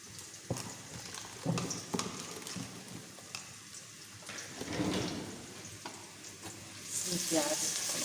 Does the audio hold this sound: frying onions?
yes